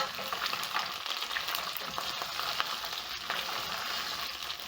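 Chunks of beef for stew browning in a hot pan, a loud, continuous crackling sizzle with occasional stirring scrapes and no voices.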